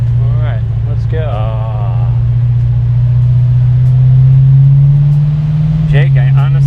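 A 1970 Dodge Challenger R/T with a 440 Magnum V8 rumbles steadily up close as it pulls away, its low exhaust note rising slightly in pitch, while people talk over it.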